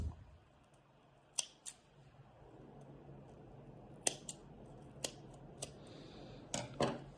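Small scissors snip crochet yarn during a quiet tutorial, several crisp isolated clicks spaced irregularly over a low room hiss, close and faint.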